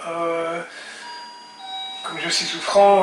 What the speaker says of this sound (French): c'est la sonnette, c'est sûrement un colis qui arrive.